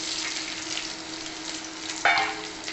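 Dried red chili, green chili and chopped onion fry in hot oil with a steady, close hiss, broken near the end by one brief clatter.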